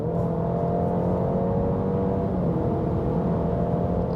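A 2023 Alfa Romeo Giulia facelift under hard acceleration heard from inside the cabin, a steady loud engine drone with a rising whine and road roar, continuous throughout with no talking.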